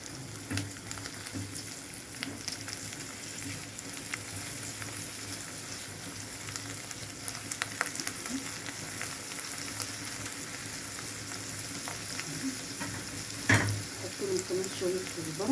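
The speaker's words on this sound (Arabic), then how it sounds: "ودي معلقة توم كمان اهي عليها، نقلبهم بقى يتشوحوا مع بعض كده" Zucchini and a spoonful of garlic sauté in a pan, a steady close sizzle that crackles on as a spoon stirs them through, with occasional louder scrapes and clinks near the end.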